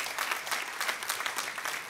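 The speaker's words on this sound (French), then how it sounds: "applaudissez si vous voulez applaudir" An audience at a church talk claps in a dense, continuous burst of applause that swells and dips slightly, moderately loud, with no talk over it.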